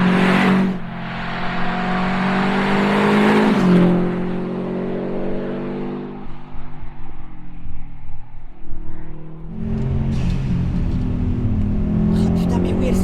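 A Subaru Impreza WRX STI Petter Solberg WR1 heard from the cabin, the engine note rising through revs, easing off, then pulling again, with people talking over it.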